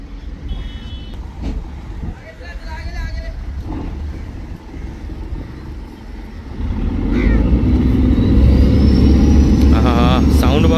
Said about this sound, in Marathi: साऊंड बघा बोटीचा साऊंड बघा.